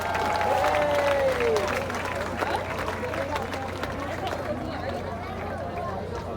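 An audience at Bridgetown's Christmas lighting ceremony in Barbados claps in a steady wash of applause mixed with crowd chatter, while a voice briefly calls out over it early on.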